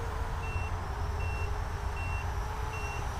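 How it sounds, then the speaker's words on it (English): Low-battery alarm on a Holybro Shuriken 250 racing drone running stock Betaflight, sounding as regular evenly spaced high beeps, four in a row, over a steady outdoor background hum. "and the alarm's going off."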